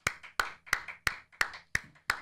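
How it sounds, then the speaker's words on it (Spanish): Steady, evenly spaced hand claps, about seven in a row at a quick even pace, ring out close and clear with nothing else around them, answering a call for applause at a Dominican talk show. "Yo voy a pedir un aplauso para Sarot"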